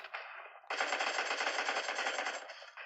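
Machine gun fire in an online shooter video game comes as a loud, rapid rattling burst that runs almost continuously for a few seconds, with a short pause near the start.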